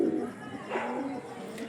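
Pigeons of the Kalshira, Fulsira and golden breeds give soft cooing under an ongoing low hum, a brief burst near the start and another near the middle, with faint voices around.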